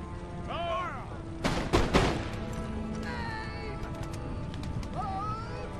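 Musket volleys and artillery fire in Empire: Total War, a cluster of loud cracking booms in quick succession, then scattered lighter pops and distant shots over a constant battlefield rumble with other game sounds.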